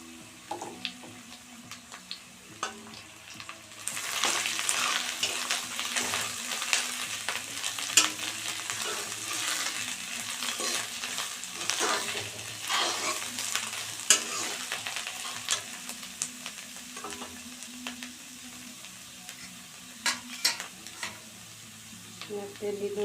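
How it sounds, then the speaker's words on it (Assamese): Dried mushrooms sizzle and fry with browned onions in a pan, a steady crackling hiss starting after a few seconds and continuing with intermittent stirring scrapes, close and moderately loud, with no talk. "এতিয়া এইখিনি ভালদৰে ভাজি ল'ম।"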